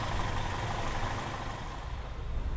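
A modified Toyota Kijang engine fitted with five ignition coils and five spark plugs idles loudly and close, a rough, continuous rumble with no break.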